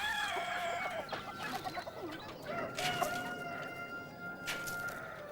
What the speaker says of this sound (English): These rare breed hens are just a hobby.